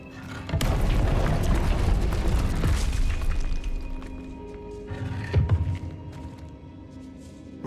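The Incendio fire spell cast in Hogwarts Legacy erupts as a loud booming whoosh of flame that roars for several seconds, then fades into crackles and smaller thuds.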